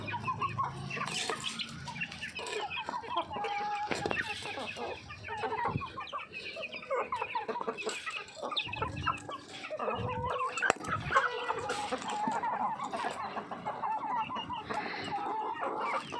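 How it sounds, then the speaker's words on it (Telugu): Several chickens cluck and squawk continuously nearby while eating prawn heads, with scattered pecking and rustling sounds and an occasional distant crow. "మా కోళ్ళు రొయ్య తలకాయలు తింటాయి"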